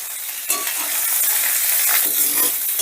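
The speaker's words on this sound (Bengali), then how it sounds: "সেই জন্য আমি এভাবেই বেগুনটাকে ভেজে নিচ্ছি।" Pieces of eggplant fry in hot oil. A sharp sizzle bursts in after a brief quiet start, then holds as a dense, crackling hiss with small pops until the end.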